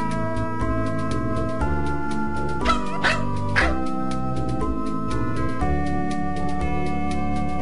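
A cartoon dog barks and yips in the Simon the Sorcerer adventure game, several quick barks over looping game music.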